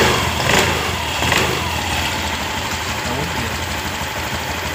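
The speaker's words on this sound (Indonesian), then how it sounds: "kunci kontak on, kita perhatikan dan coba kita tuas gas" A Honda Genio scooter engine runs up as the throttle opens, a steady mid-pitched motor drone with a couple of small surges early on, close and continuous, with someone talking over it.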